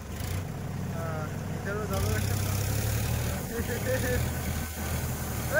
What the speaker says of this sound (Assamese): ফাইনেলি আমাৰ টেইলাৰ আধা ভৰ্তি হোৱাৰ লগে লগে আহি পালে আমাৰ মৰণ দা ড্ৰাইভাৰ আৰু ট্ৰেক্টৰ